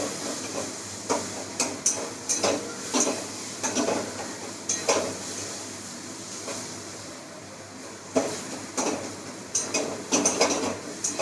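Pav bhaji masala mixture stirred in a pan, rhythmic scraping and clacking of a spatula in repeated bursts over a faint frying hiss.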